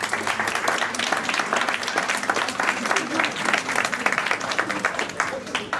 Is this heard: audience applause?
yes